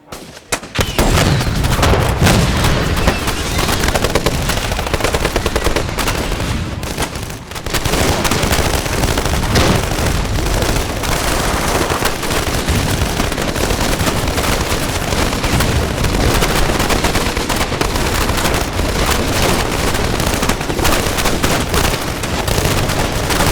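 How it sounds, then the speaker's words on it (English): Rendered machine gun and assault rifle fire with ricochets makes a loud, dense, continuous barrage of overlapping shots and bangs that runs almost without break, with a brief dip partway through. "some ricochet, and finally some machine guns, assault rifles"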